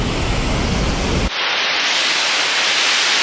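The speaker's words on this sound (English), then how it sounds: "Right up to the waterfall." Waterfall, a loud continuous roar of falling water heard alone, with a sudden shift in tone partway through as if the listening position changes.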